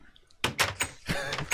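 A door in the Minecraft game clacks open and shut several times in quick succession, sharp wooden knocks close to the listener.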